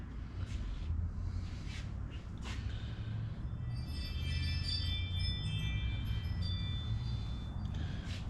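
A home camera security system sounds a high, thin repeating alert tone in a workshop, faint behind a low steady background rumble and a few light knocks.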